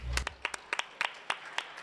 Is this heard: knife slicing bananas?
no